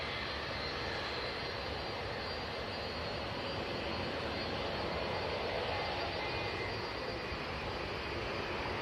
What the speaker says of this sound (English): And I think we have Singapore Airlines about to land.